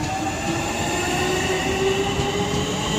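A Southeastern class 465 electric train pulls away from Northfleet station toward London Charing Cross, a steady close rumble with sustained whining motor tones and faint wheel squeal.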